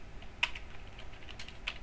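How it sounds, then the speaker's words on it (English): Fast clicky typing on a computer keyboard that keeps jamming, a quiet close patter of key presses with a few sharper clacks, heard alone without speech. "What is wrong with my keyboard today? It keeps jamming."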